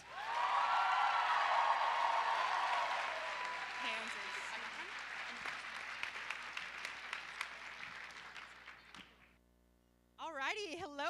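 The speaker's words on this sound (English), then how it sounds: "Let's give one more round of applause for all these kids and all our RaiseRED families." Audience applause at a dance marathon community celebration, a dense roar of clapping that thins into scattered claps and fades out, followed by a voice starting to speak.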